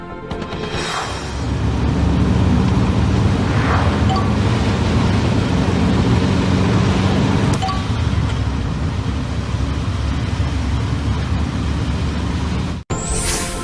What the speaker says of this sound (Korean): 자동차 내부의 소음도